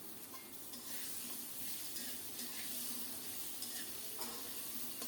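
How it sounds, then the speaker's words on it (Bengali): Pointed gourd and potatoes frying together in a pan, a faint, steady sizzle with occasional quiet stirring, no voices. "কাঁকরোল আর আলু একসাথে আবারও সুন্দর করে ভেজে নেব"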